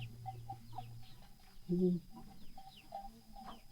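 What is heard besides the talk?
chickens clucking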